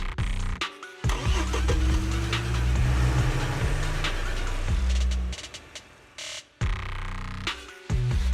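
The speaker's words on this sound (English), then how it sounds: "Piper, start the truck!" An engine starts up in the Zenless Zone Zero video game: a truck's motor cranks and roars into a sustained, loud rumble for several seconds, cuts out briefly, then returns.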